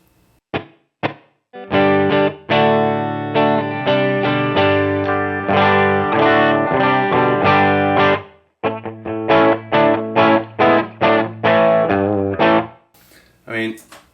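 Electric guitar chords and single notes through a Line 6 Helix dynamic ambience effect ring out close, washed in spacious reverb and shimmer, with sustained strums followed by a run of shorter plucked phrases.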